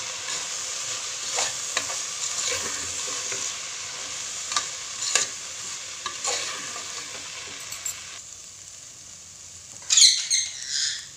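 A vegetable kurma mixture being stirred in a pan, with a steady sizzle broken by repeated scraping and tapping strokes of a spoon, ending in a louder clatter near the close.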